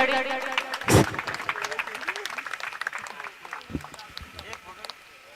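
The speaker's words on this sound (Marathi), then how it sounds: "टाळ्या वाजवायच्यात प्लीज चंचाडी." Scattered claps from a crowd gathered for the coin toss at a village cricket tournament match, with one sharp burst near the start, then light patchy clapping mixed with voices and open-air bustle.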